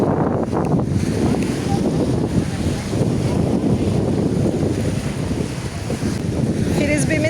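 Loud, constant wind buffets the microphone outdoors by the sea, a dense roaring rush with faint voices underneath.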